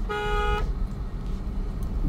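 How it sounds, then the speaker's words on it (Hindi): A single car horn honks, a short bright toot of about half a second over a steady rumble of a car driving on a road. "हॉर्न"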